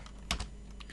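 A few quick computer keyboard keystrokes, with two crisp clicks close together and a fainter tap after, sound in a quiet room during Ubuntu server command entry.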